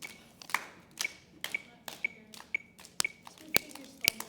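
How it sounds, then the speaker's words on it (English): Two-finger claps ring out in a slow, even series of about a dozen sharp taps, roughly two per second, close and fairly faint during a drumming lesson with fifth graders. "Do the 2-finger clap."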